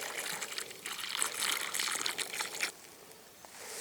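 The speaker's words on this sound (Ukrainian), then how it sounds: "Заливаю воду, щоб хоч трохи розмочити цей полючно-цементний ґрунт." Water poured into a narrow dug trench in dry, dusty, cement-hard soil, a steady splashing gush for nearly three seconds that then drops to a softer trickle.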